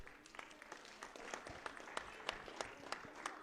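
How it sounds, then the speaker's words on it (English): Faint applause at a district pinewood derby, a thin, scattered patter of clapping from a modest crowd, heard at a distance over low room noise for a few seconds. "Ladies and gentlemen, round of applause for Trace."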